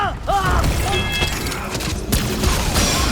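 A powerful explosive blast from the Nova weapon in Remnant 2 booms amid bursts of rapid gunfire and clattering mechanical sounds, loud and dense throughout, with a sharp fresh impact near the two-second mark.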